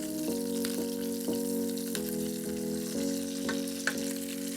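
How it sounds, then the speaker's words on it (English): Onions for a beef and onion stew fry in a pan under a steady soft sizzle, with a repeating low tonal hum and a few light clicks of stirring, no one speaking. "I just want to get some nice colour on these onions before I add our garlic and tomato paste."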